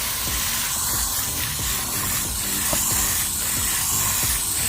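Garden Safe fungicide sprayed onto garden plants, a steady close hiss of mist running continuously with faint rhythmic background clatter underneath.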